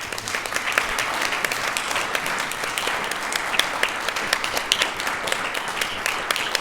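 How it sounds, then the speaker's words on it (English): A crowd applauds steadily for several seconds at a lecture, a thick continuous clatter of many hands at even loudness throughout. "Can we have one more round of applause for Dr. Benevich?"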